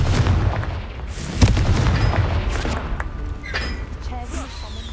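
The Confringo blasting spell in Hogwarts Legacy, a sharp booming blast near the middle amid game effects and background sound, with a voice speaking.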